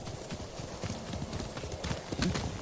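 Rhythmic clip-clop of horse hooves at a steady trot in the video game Ghost of Tsushima, moderately close, with faint background noise.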